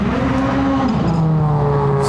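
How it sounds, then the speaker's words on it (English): Rallycross cars at the 2019 FIA World Rallycross qualifying in Bretagne, France, cleaning off their tyres on the way to the start line, with a loud continuous engine drone that shifts pitch midway. "as you can hear, the cars are cleaning off their tyres and putting up to the start line"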